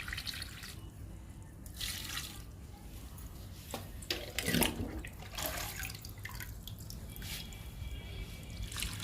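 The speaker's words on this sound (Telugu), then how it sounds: "వీటికి కూడా లిక్విడ్ ఇస్తున్నాను." Homemade leaf liquid poured onto indoor potted plants, irregular close splashes and drips of water onto soil and leaves, soft and intermittent.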